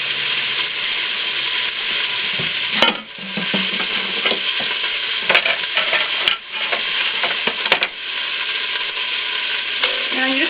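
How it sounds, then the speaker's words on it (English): Chicken pieces frying in a very hot pan, a loud close sizzle with occasional sharp scrapes and clinks as they are stirred now and then, no voices. "Now you just want to keep stirring this now and then."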